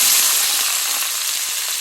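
Onions hitting hot oil with cinnamon and cloves in a pan, a steady bright hiss and sizzle that holds evenly and close for a couple of seconds with no talking.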